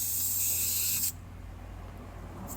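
Air hisses steadily out of a car tire valve as it is deflated by hand, a close, bright rush of about a second that cuts off abruptly, leaving low background hum.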